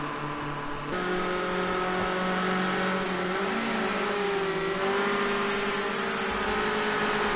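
Escort RS 1600 race cars running at Brands Hatch produce a continuous engine drone with shifting pitch as they run close together, sounding somewhat distant and steady throughout.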